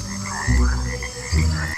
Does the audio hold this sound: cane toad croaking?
yes